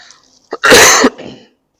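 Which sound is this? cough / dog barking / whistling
cough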